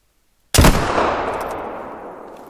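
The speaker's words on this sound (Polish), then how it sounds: "ja tego chłopca strzelę, bo on jest ładnie bokiem ustawiony" A single rifle shot fired at a deer in theHunter: Call of the Wild, a loud, sharp, close blast followed by a long rolling echo that fades slowly, with no talking.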